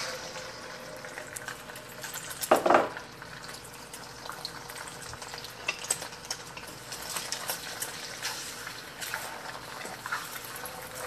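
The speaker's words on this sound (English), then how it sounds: "I'm going to scramble our eggs up first." Eggs being scrambled in canola oil in a hot pan give a steady hissing sizzle throughout. A brief louder clatter comes near the start. The sound is close and moderate in level, with no talking.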